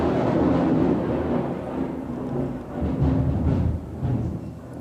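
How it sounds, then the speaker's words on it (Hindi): Heavy rain pours outside with rolling thunder, a steady dense roar that swells and dips across the whole stretch with no voices over it. "बाहर बहुत ज़ोर का बारिश हो रहा है।"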